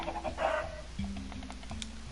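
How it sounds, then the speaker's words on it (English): Minecraft chickens clucking in a game, a few short clucks over a steady low game hum, moderately close with no talk. "I'm gonna have to kill off some of these chickens here."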